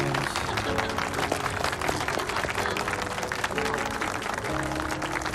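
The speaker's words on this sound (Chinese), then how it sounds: "让我们用热烈的掌声，有请最美丽的新娘登场" Applause at a wedding ceremony as the bride is called to the stage, a steady dense clapping from a crowd that runs the full length, with sustained music tones underneath.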